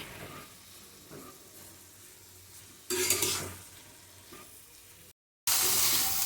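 Spinach curry with garlic frying in a pan, a steady sizzle with intermittent scraping stirs, one louder burst of stirring midway, a brief cut, then a strong sizzle again.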